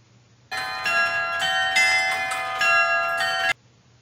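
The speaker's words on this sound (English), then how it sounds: "Using a clock and a mechanism to strike a bell on its side with a hammer like that." A bell is struck on its side by a clock mechanism's hammer about five times in quick, slightly uneven succession, each strike ringing bright and close.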